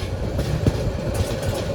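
The Jamalpur Express runs on a single meter-gauge line out of Dhaka Kamalapur, giving a loud, steady rumble with rhythmic clattering of wheels over rail joints, heard close and continuous.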